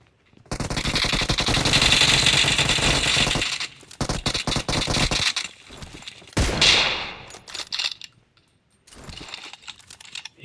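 Bursts of rapid automatic gunfire, loud and sustained, then shorter volleys broken by gaps, with sharp metallic clatter.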